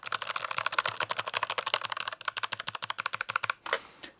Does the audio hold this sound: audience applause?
no